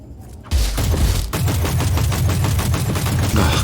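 Sustained automatic gunfire in the Warhammer 40,000: Inquisitor - Prophecy video game against Tyranids, a loud rapid burst of evenly spaced shots that follows a short quieter lead-in and holds with a heavy low rumble.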